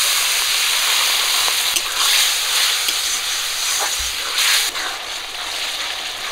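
Lightly fried spices in a hot pan for a Bengali pabda fish curry with brinjal, hissing and sizzling loudly and steadily after a little water goes in, with a few soft clinks and one brief thump partway through.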